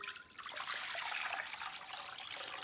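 Water is poured into a larger bowl, a short, close, steady splashing trickle lasting a few seconds.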